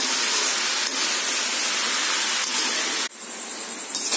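Snake gourd sautés in hot oil in a pan, giving a loud, steady sizzling hiss that drops to a softer crackle near the end.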